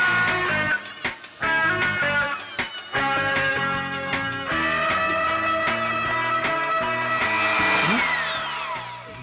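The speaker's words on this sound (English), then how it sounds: "I'm going to switch to this bit where I can ream the inside of the O-rings out a little bit" A rotary tool bit reams out the inside of rubber O-rings while fitting a custom action figure head, whining steadily and loud with brief pauses and a speed change near the end.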